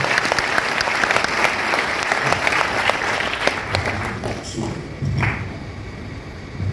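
Seminar audience applauding in a large hall in Delhi, a dense, loud wash of clapping that fades and thins toward the end with a few scattered thuds.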